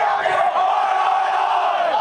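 A large crowd chants together in unison, many voices merged into one sustained, droning call that holds steady and loud, with no individual speaker standing out.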